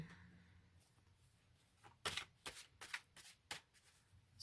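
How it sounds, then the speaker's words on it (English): Tarot cards are shuffled by hand, quiet at first, then a run of crisp riffling bursts and flutters in irregular rhythm, close and without talk. "So just shuffle a few times"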